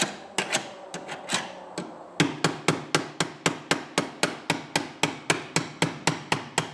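An electrician's punch is struck with a hammer to tighten a conduit lock nut while installing a sub panel. A few uneven metallic taps come first, then a steady run of about fifteen sharp, close, evenly spaced hits, with no talk.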